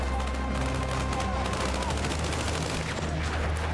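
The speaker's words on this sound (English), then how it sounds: "They're firing at someone." Rapid gunfire crackles in a Battlefield 6 match on a new map, dense sustained bursts of shots at moderate distance over a low droning background.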